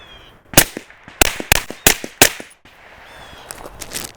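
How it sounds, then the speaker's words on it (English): Five suppressed pistol shots fired into a jumbo bag, each a sharp, close, loud crack in an uneven rhythm over about two seconds, followed by faint rustling of the bag. "I just shot 5 rounds"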